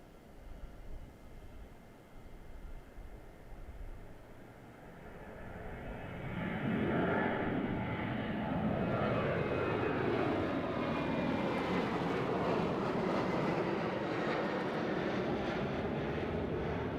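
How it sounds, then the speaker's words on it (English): A Qantas airliner lands on runway 32 at Gold Coast Airport, its engine roar swelling from a moderate rumble to a loud, sustained, broadband drone that holds steady as it passes close by, with no voices. "back to this Qantas that is landing now on 3-2."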